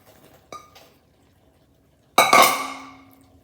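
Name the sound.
soya chunks added to a pan and mixed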